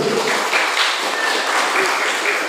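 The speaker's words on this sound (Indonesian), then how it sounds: "Berikan aplaus pada grup biru." An audience at a school Quran memorization competition final claps for the blue team, with dense, continuous applause that stays steady and fairly loud for a couple of seconds.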